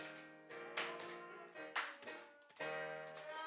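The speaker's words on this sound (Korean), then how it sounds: "박수치면서 우리 예수 사랑하심을 힘차게 박수치며 찬양합니다" Congregation clapping along in rhythm to a hymn at a Sunday church worship service, steady hand claps mixed under loud sung music and organ-like tones, with bursts of stronger clapping.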